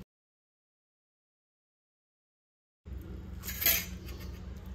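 A metal spoon scrapes and clinks inside a mango as the pit is worked out. After nearly three seconds of silence the sound comes in close, with one brighter clink at the peak and soft scraping around it.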